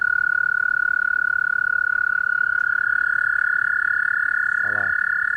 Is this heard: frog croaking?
yes